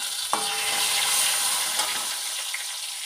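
Whole garam masala and bay leaf sizzling in hot oil with turmeric and salt, a steady close hiss opened by a brief clatter as something drops into the pan, no voices.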